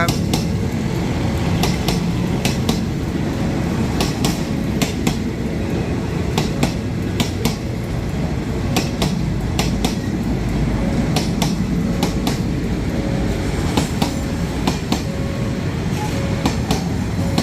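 A tourist train of JR air-conditioned coaches rumbles past steadily at a road level crossing in Thailand, its wheels clacking over rail joints in a regular rhythmic beat, loud and close, without voices.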